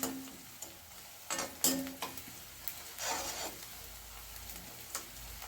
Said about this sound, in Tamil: இந்த பெரிய வெங்காயம் கொஞ்சம் நல்லா வதங்கட்டும்